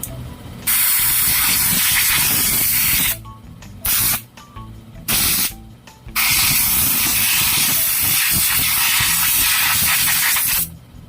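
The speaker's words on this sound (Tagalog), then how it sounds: "Lagyan natin ng high temp para hindi siya dumikit sa susunod na baklasin." A spray can of high-temperature paint hisses in long bursts onto a Yamaha Nmax 155 V2 magneto, loud and close, with a few short pauses between sprays.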